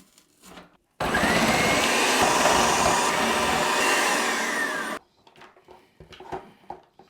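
A kitchen food processor slices four large onions fed one at a time through its centre chute. Its motor roars loud and steady for about four seconds, then cuts out abruptly, with faint handling sounds before and after.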